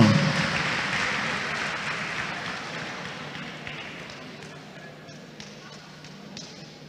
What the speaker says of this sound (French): On l'ovationne